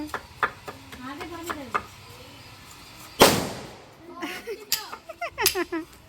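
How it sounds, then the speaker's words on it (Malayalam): A single sharp firecracker bang cuts through a family gathering in Kerala partway through. Before and after it, people talk and call out nearby, with a few smaller pops and knocks. "അപ്പൊ ഒന്ന് അറിയിച്ച് പോവാന്ന് വിചാരിച്ച് പടക്കൊക്കെ പൊട്ടിച്ച് പോവാണ് കേട്ടോ"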